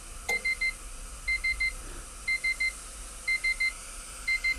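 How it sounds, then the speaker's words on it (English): A LaserBrite teeth-whitening timer in a cosmetic dental clinic gives its end-of-cycle tone, five groups of three short, clear electronic beeps, evenly spaced about one second apart over a steady low hum. "At the end of the 8-minute cycle, there will be an audible tone, the light will shut off"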